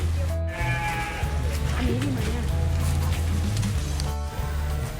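Goats in an elephant village near a cafe in Pattaya bleat repeatedly at close range, several drawn-out calls overlapping with a steady low hum in the background.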